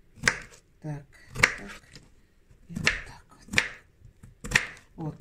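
A knife chops zucchini into sticks and cubes on a board, giving crisp, separate cuts in an irregular rhythm of about six strokes while someone talks between them.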